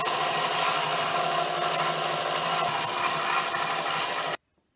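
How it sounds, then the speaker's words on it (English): A belt sander grinds down a wooden WWI-style trench club, making a steady, loud, rough abrasive whir that holds for about four seconds and then cuts off abruptly. No talking. "I'm going to use a belt sander and I'm going to sand it down."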